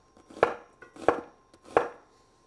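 Three crisp knife strikes chop an onion on a cutting board, evenly spaced about two-thirds of a second apart, close and fairly quiet with no talk.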